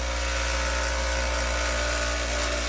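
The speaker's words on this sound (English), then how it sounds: "So generally that's the high-speed grinder." A high-speed bench grinder sharpens a carving tool, giving a loud, steady, high-pitched whine that holds unbroken throughout, close up with no voices.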